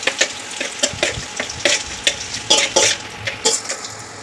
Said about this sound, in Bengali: তেলটা গরম হওয়ার পর আবার তেজপাতা দেবো, তারপরে গোটা জিরে দেবো, গোটা জিরে দিয়ে দিলাম। তারপরে নেড়ে নেবো আবার কিছুক্ষণ ধরে।